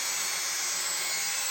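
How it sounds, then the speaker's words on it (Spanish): A saw cuts miter joints in wood pieces for kitchen cabinet work, giving a steady, dense, hissing rasp that runs unbroken and close throughout. "Cortamos en inglete las piezas que hagan falta para ir poniendo según necesitemos"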